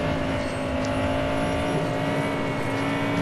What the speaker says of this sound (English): this is the normal engine noise